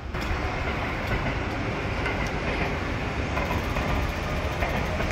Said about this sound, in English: let me show you the train traveling from there.